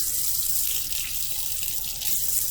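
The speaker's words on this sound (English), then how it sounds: "Then I'm going to take some cold water." Cold water pours from a kitchen tap into a bowl of rice, a steady, close, hissing stream that runs without a break and with no talking.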